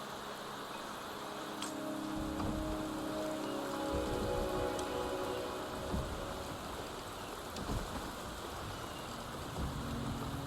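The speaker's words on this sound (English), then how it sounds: "The rain is subsiding, and the sky will soon clear." Steady rain falls in the video game Wuthering Waves, a dense even hiss of drops with low rumbling underneath, close and constant throughout.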